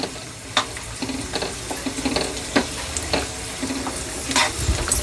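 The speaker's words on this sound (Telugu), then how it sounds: "కిస్మిస్లు కాజులు వేగిపోయినాయి" Raisins and cashews frying in a pan of ghee for homemade laddu, a soft steady sizzle with light scattered crackles and occasional spoon taps against the pan.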